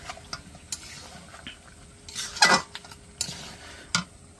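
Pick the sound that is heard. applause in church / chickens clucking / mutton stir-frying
mutton stir-frying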